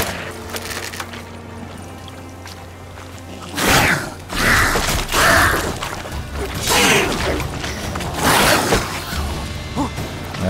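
Crossbow bolts fired in The Witcher 3 video game: a series of sharp whooshing shots and thudding impacts, roughly half a dozen over several seconds, rising loud over a steady low game ambience.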